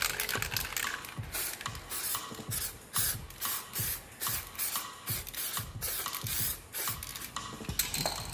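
Activator for hydro dipping film is sprayed from an aerosol can in a series of short hissing bursts with rattling, clicking pauses between them, at close range and without talking.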